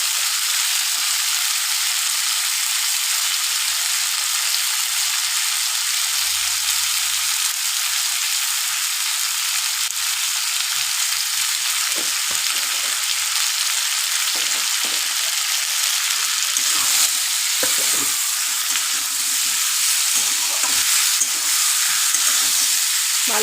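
Potato and egg curry stir-fried in a pan, a dense, loud frying hiss that runs without a break, with scraping stirs growing busier toward the end.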